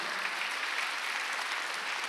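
Congregation applauding during a Sunday church service, a dense, even roar of clapping from many people, sustained throughout.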